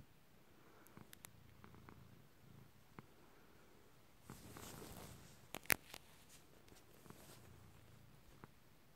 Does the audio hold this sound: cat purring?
yes